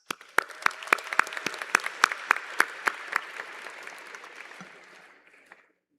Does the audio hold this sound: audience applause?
yes